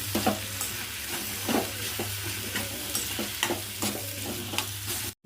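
Sliced brinjal fries in a pan with a steady oil sizzle, while a spoon scrapes and stirs in irregular bursts and a low hum runs underneath, close and moderately loud with no talking.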